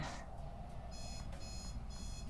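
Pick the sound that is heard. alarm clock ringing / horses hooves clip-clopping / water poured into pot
alarm clock ringing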